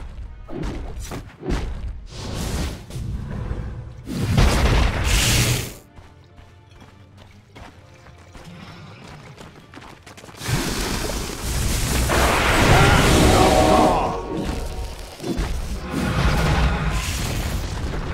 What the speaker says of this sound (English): Dire's top tower is under attack. Dire's top tower is under attack.